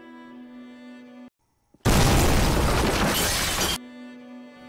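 A film explosion bursts in after a moment of silence, a loud, dense roar with shattering debris that holds for about two seconds before cutting off into background music.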